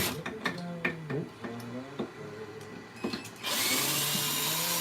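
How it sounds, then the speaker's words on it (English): A power drill bores a tiny pilot hole in wood. A few close knocks and clicks come first, then the drill's whirring bite runs steadily for the last second and a half. "you can like drill a tiny pilot hole"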